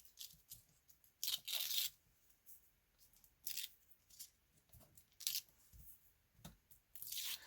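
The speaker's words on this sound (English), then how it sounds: "I love how easy the paper backing is to pull off of these foam strips" Paper backing is peeled off foam adhesive strips in short, crackly tearing bursts, several of them spaced irregularly with quiet handling noises between. Each is close and crisp against a hushed room, with no talking.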